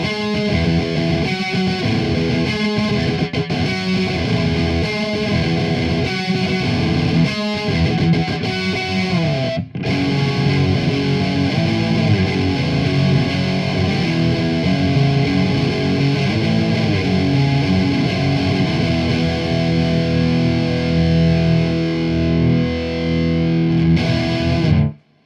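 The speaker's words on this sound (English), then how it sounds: "Bit of distortion, shall we?" An electric guitar fitted with Gish custom pickups plays through heavy distortion, thick sustained chords and riffs ringing loud and continuous, with one brief cut before the playing resumes and a sudden stop at the end.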